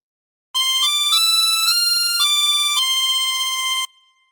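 A phrase of the Star Spangled Banner played on a chromatic harmonica: a run of steady, sustained single notes stepping through the melody, close and clear, with no talking.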